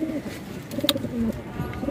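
Pigeons cooing close by in a loft of border breed birds, soft low throaty coos repeating over a busy background of fluttering and faint chirps.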